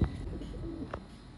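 A pigeon coos softly, a short low burbling call close by against faint background noise.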